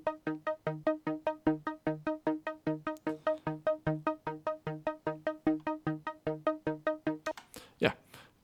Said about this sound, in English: It's called Queen Radio Arpeggio from Radio Gaga, the Queen hit.